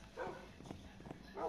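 A dog in the Minecraft survival video game gives a few short, yappy barks and whimpers at close range. A sparse game soundscape sits behind them, with a louder bark burst near the end.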